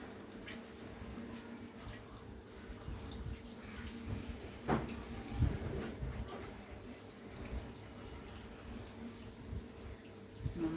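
Cut pabda fish are washed under a running tap, a faint, steady wash of flowing and splashing water with occasional small knocks, heard fairly far off in a quiet room.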